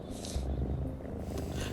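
A cat purrs as it is petted in the video game The Talos Principle 2, a soft, steady, rhythmic low rumble, close and quiet with no talking over it.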